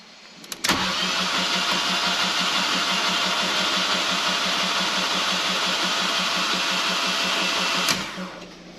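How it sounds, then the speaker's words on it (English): A Fiat 500 TwinAir engine cranks steadily in a single sustained burst of about seven seconds, close and loud, with a rapid even chug throughout and no talk. "I'm just going to try cranking it and just keep going in short bursts"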